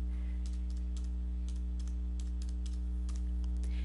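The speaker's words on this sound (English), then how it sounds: "You're going to type in your 9-digit Rutgers ID" Quick, irregular clicks of computer keyboard keys as a nine-digit ID number is entered, heard close up over a steady low electrical hum.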